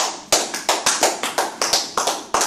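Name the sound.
congregation applauding Jesus in church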